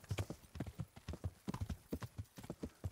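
Video-game horse hooves from Kingdom Come: Deliverance clip-clop in a steady trot at close range, the beat repeating evenly throughout, with no talking.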